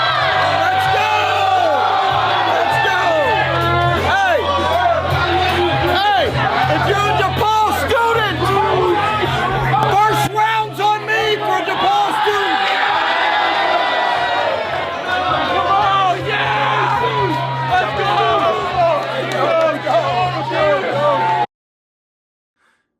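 A large crowd at a DePaul basketball game roars, whoops and chatters continuously at close range, a loud, dense wall of cheering and babble that stops abruptly.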